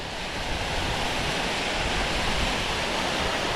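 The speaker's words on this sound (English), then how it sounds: "here we are at the waterfall" The Hell Gill Beck waterfall pours out a continuous broadband rush of falling water, steady and fairly loud throughout with no voices.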